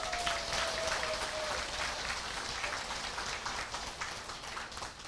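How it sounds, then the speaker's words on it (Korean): A seminar audience gives themselves a big round of applause, a dense, steady wash of many hands clapping, moderately distant and even throughout, without voices rising above it. "그렇게 말씀하실 분들만 본인에게 큰 박수 한번 보내주세요."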